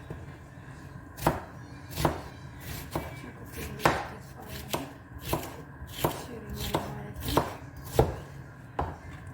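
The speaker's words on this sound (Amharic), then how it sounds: "እዚህ ጋራ አትክልቶችን ልክተፍ" A knife chopping vegetables on a cutting board while preparing an Arab-style chicken dish, steady, fairly close chops at an irregular but regular-ish pace, with no talk.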